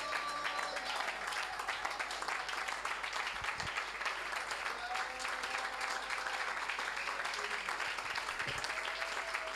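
A church congregation applauds and cheers in praise, a dense, steady wash of clapping with a few voices calling out, continuing evenly throughout without pause.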